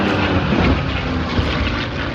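A V12 warbird aircraft engine roars steadily at an airshow, a loud, continuous broadband drone with a low rumble and no talking over it.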